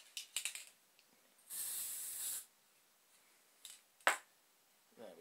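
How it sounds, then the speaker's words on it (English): Spray paint can hissing inside a model cab interior, one steady burst of about a second amid faint rattles and clicks, with a short sharp snap later. "I might need to put a bit more spray paint in this actually."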